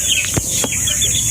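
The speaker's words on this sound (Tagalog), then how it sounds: "Ito na po yung sisiw nyo." Chicks cheeping in a box, a dense, busy chorus of high, thin chirps that is loud and near, alone with no talk.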